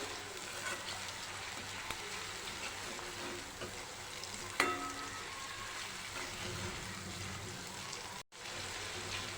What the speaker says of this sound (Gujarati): ટામેટા એડ કરીને સાતળી લઈશું